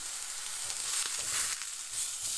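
Aldi Louisiana BBQ steak frying in a hot pan on medium-high heat, a steady close crackling sizzle with faint spits and pops and no talking.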